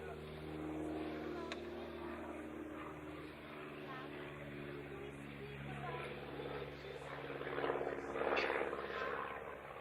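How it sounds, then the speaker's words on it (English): Aeroplane passing overhead outdoors at Brockwood Park, a steady low droning rumble that swells gradually toward the end, heard under quiet ambient noise during a group discussion. "I can't hear, sorry, that aeroplane."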